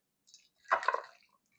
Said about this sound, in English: now I'm going to pour the shrimp in here.